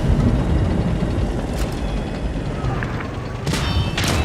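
A tank cannon firing in a video game tank battle, two sharp loud blasts near the end over constant engine and track rumble.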